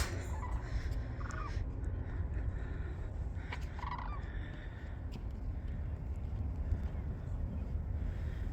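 Distant sandhill cranes calling outdoors at a wildlife refuge pond near Albuquerque, a few honking, trumpeting cries rising over steady wind or ambient noise.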